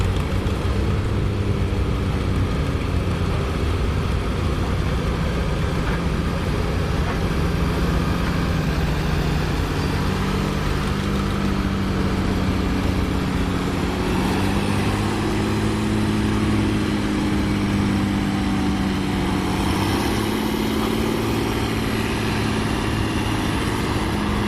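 A John Deere 4040 tractor running at a county tractor pull in the pace class, its engine droning steadily at a distance for the whole stretch, with rising and falling pitch as it works under load.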